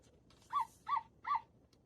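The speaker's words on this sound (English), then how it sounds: "It's Holly, the Christmas pup. Woof, woof" A puppy whimpers three times in short, evenly spaced rising whines, close and clear against a quiet background.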